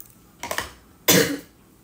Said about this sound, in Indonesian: Guys, aku batuk.